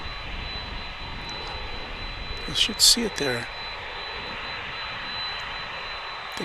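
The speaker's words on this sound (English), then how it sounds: "This plane's coming in very low." A plane flies in low on approach to land at DFW International Airport, its engine roar steady and loud throughout while someone talks briefly in the middle.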